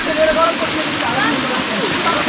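Holy water gushing from the 108 spouts at Muktinath temple in Nepal, a steady, loud, close rush of flowing water with a faint voice underneath.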